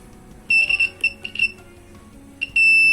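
A few short electronic beeps from a multimeter continuity test on phone components, then a longer sustained beep near the end, crisp and close with faint background hum.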